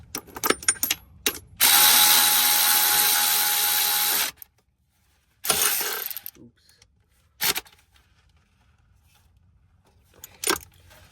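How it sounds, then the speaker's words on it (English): Close ratchet wrench turning a 12 mm bolt while a starter is replaced on a Honda Accord 2.4, one long steady burst of buzzing ratcheting followed by a few short spurts separated by quiet. "This ratchet's pretty strong"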